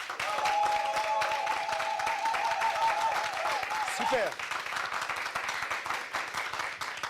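Audience applause follows a call to applaud a guest during a Burkinabè TV program, dense steady clapping that fills the room for several seconds, with a brief spoken word and a voice near the end.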